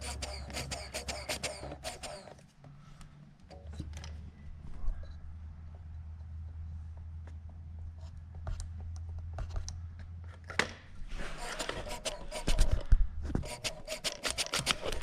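A hand vacuum pump clicks and squeaks in quick repeated strokes on a 1996 Mazda B3000, in bursts at the start and end, with a low steady hum in between.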